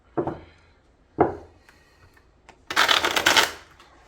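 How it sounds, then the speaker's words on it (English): A tarot card deck being riffle shuffled, with two soft single card snaps followed by a loud, close, fluttering burst of cards riffling together for nearly a second. "And I'm a pretty decent riffle shuffler,"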